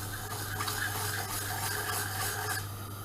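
A wooden spoon stirs sugar as it caramelizes in a pan, giving a close, continuous rasping scrape over a steady background hum, with no voices.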